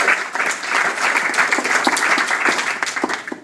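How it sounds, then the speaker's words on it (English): Wedding guests at the speeches give a round of applause for the parents of the bride and groom, a loud close burst of clapping and cheering that tapers off at the end. "So can I have a round of applause for those,"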